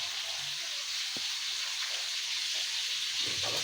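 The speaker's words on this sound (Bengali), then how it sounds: "এদিকে আমার মাছটা ভাজা হতে থাক" Nola fish frying in a pan of hot oil, giving off a steady, even sizzle and hiss from start to finish with no voices.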